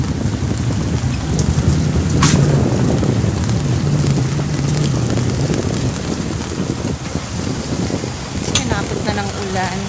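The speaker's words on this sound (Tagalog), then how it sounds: "Pinapot na ng ulan." Heavy rain pours steadily on a roof, with low rumbles and a few sharp cracks, and a voice speaking faintly beneath.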